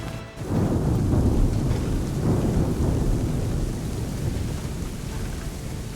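A heavy in-game thunderstorm in Assassin's Creed 3: a deep, rolling rumble swells up right after a brief hush, then dense rain pours steadily and loudly throughout.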